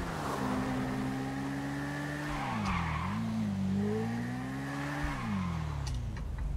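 A motorbike ridden in GTA 5, its engine droning steadily with rising and falling revs and a brief tire skid, close and continuous with no talking.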